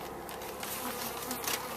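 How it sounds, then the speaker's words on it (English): Honey bees swarm around an opened hive during an inspection, a steady, dense buzzing hum with no break, close by and moderately quiet. "There's a lot of bees here."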